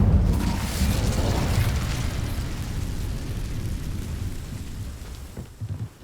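Incendio fire spell in Hogwarts Legacy, heard as a loud, broad roaring rumble that starts strong and slowly fades over several seconds, with a few soft thuds near the end.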